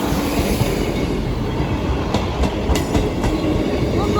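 A Class 158 diesel train passes close by a level crossing at Sleaford East, a loud, steady rolling rumble with clickety-clack wheel beats and faint squeals partway through.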